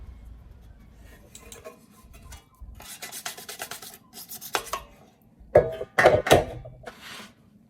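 PS3 Fat console parts being scrubbed and cleaned during a yellow-light-of-death repair, heard as close, intermittent rubbing and scraping strokes that build into louder bursts near the end.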